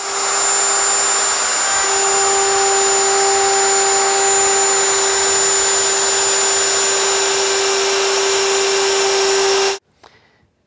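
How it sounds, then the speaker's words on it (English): A router with a chamfering bit cuts the underside edges of a rough lumber wooden handrail, a loud, steady high-pitched whine held for about ten seconds before abruptly cutting off into quiet. "use a chamfering bit to angle the corners of each underside edge"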